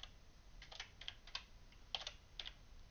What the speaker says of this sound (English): while I'm typing here